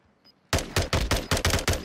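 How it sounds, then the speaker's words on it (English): Call of Duty Warzone gunfire, with a rapid burst of about eight sharp, loud shots in quick, slightly uneven succession, heard after a near-silent lead-in. "Shots downrange."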